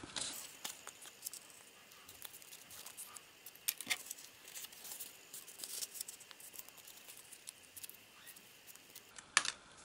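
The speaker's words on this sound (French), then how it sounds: "Maintenant, on va aller plier les petits papiers." Soft paper rustling and crinkling as small slips are folded, with light intermittent crackles and taps close by in a quiet room.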